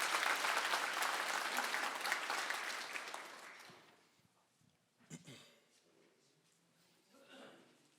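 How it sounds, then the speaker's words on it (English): Conference audience applauding the staff who work behind the scenes, a full round of clapping that fades out over a few seconds, followed by quiet room noise and a couple of faint thumps. "give a round of applause to everybody here that works on our staff behind the scenes"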